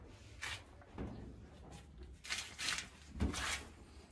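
A cabinet's shelf door being opened and closed, giving a few soft knocks and rattles spread over several seconds, close by in a quiet room with no talking.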